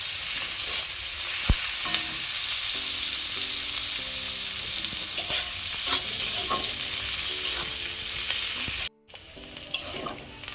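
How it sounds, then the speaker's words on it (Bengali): Onions frying in a pan with black cumin seed, a constant loud sizzle with intermittent spoon clinks and stirring scrapes, a faint tonal hum in the background, and a short drop out near the end. "পেঁয়াজগুলো ভাজা ভাজা হয়ে গেছে,"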